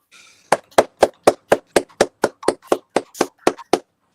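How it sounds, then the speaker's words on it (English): Several people give a birthday tribute to footballer Thomas Rosicky on a podcast by clapping together in about fourteen sharp, close, evenly spaced claps. The clapping lasts roughly three seconds and then stops, with no talking over it. "5-second applause for Thomas Rosicky"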